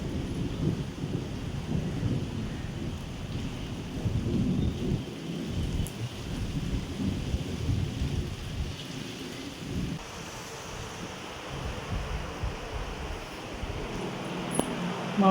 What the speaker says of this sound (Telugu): మెరుస్తుంది, ఉరుముతుంది.